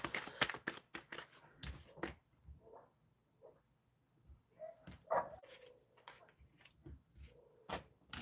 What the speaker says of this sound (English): Do you hear the puppies?